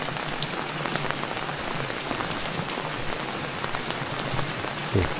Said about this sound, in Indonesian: terdengar suara kemerucuk air di sini nih ini airnya kerucuk kerucuk kerucuk kerucuk kerucuk airnya kencang dari atas